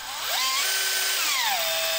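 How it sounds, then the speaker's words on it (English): A power drill spins up with a rising then steady whine, shifting pitch as it changes speed, loud and close and continuous throughout, with no talking over it. "but you can usually get your drill"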